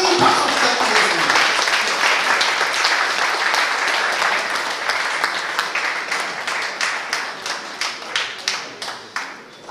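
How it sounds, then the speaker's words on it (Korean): An indoor audience applauds a professor's lecture on Syngman Rhee: dense, loud clapping that slowly thins into scattered individual claps toward the end. "큰 박수 부탁드리겠습니다."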